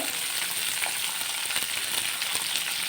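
Garlic, onion, curry leaves and green chillies sauté in hot oil in a pan, a close, steady sizzle and crackle with no talking over it.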